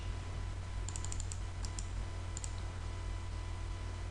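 Computer keyboard keys pressed to paste a file name, a few quick faint clicks in two small clusters over a steady low hum, with no talking.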